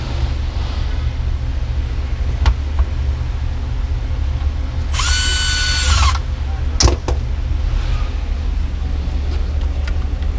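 A power drill briefly whirs as it drives screws into a Civic Type-R steering wheel, a single short burst over a steady background hum, with a few faint clicks and taps around it.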